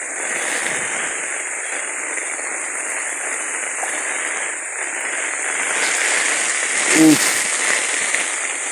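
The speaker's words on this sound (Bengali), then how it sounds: "দেখুন আমাদের ছাদের অবস্থা বৃষ্টি হচ্ছে প্রচুর" Heavy rain pours onto a flat rooftop as Cyclone Remal approaches, making a constant loud wash of hiss and patter that swells slightly in gusts.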